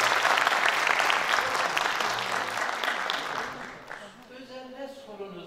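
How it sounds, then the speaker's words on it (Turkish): Audience applause at a memorial evening, a dense wash of clapping that stays loud for about four seconds, then thins and fades away. "Bir alkışlayalım mı?"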